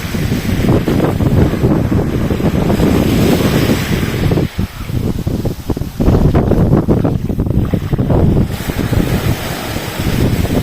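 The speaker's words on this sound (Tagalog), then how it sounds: "Lamig. Mahangin po. Mahangin." Loud, roaring wind batters the microphone over the sea at Leucate, France, with a churning surf-like rush throughout and only brief lulls.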